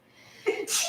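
A single sneeze, quick and fairly close, with a short inhale followed by a sharp, breathy burst.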